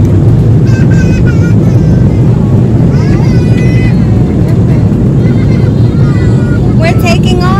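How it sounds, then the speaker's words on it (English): A passenger airplane takes off from an airport, heard from inside the cabin as a loud, steady engine roar and rumble filling the whole stretch, with faint voices talking over it. "We're taking off."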